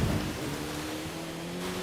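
Steady rain hisses in a driving game, Forza Horizon 5, over a low engine hum, a dense even wash of falling water with no breaks.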